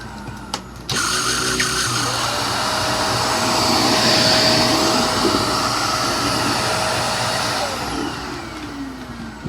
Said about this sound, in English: That brush roll is pretty loud, not gonna lie.